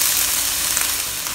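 Steady loud sizzle of chicken and salted fish fried rice being stir-fried with light soy sauce in a hot pan, a continuous hiss with no talk.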